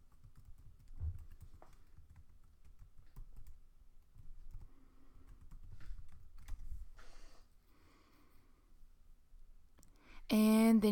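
Keys clatter softly on a computer keyboard as a username and password are entered, sparse quiet clicks in short irregular bursts, followed by a louder sudden sound at the end.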